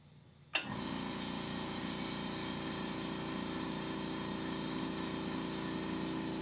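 A sharp click, then a California Air Tools compressor motor kicks on and runs at a steady, moderate hum, quieter and smoother than a typical compressor, continuing evenly.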